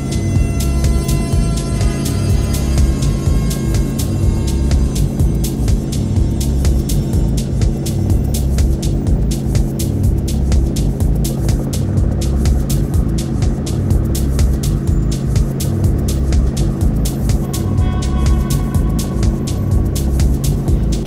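A helicopter in flight on approach to Toussous-le-Noble aerodrome for a refueling stop gives a loud, steady, throbbing rotor and engine drone. It runs continuously and close throughout, with no talking.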